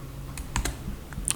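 A few keys tapped on a computer keyboard, then a firmer Enter press, a handful of quick close clicks over a low room murmur, with no speech.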